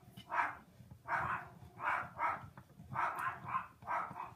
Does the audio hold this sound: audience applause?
no